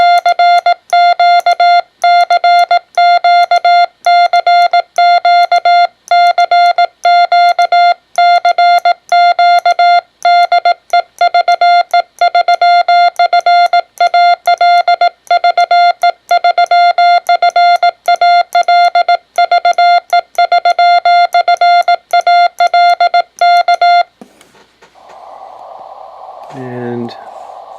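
Sidetone beeps from a Xiegu X5105 radio keyed with a paddle for Morse, a steady pitched tone chopped into rapid regular dots and dashes, very loud and close, stopping near the end as a brief voice and handling noise follow.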